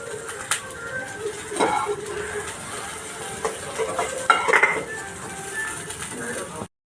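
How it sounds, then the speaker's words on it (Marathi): Okra (bhindi) being stir-fried in a pan for a dry vegetable dish, with steady sizzling and scraping stirs, a few louder clinks near the middle and end. "भेंडी छान परतून घेते त्याचा चिकटपणा जाईपर्यंत"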